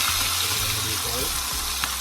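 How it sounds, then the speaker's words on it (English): Fish sizzles steadily in hot oil in a pan for Jamaican escovitch fish, a dense close frying hiss with faint low rumble and a few soft clinks underneath. "Just leave it to fry again for the next 5 minutes on my side."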